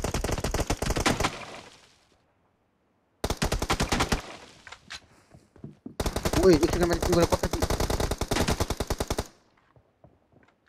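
Rapid automatic gunfire from a video game, fired in three long bursts separated by short gaps, loud and close, with a player talking briefly between bursts.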